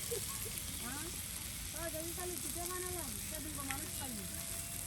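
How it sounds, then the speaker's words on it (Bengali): Onion and garlic frying together in oil over a cooking fire at a riverside camp, a steady, close sizzle running throughout while voices talk over it. "এই যে দেখুন সুন্দর করে কিন্তু পেঁয়াজ রসুন একসাথে তেলে"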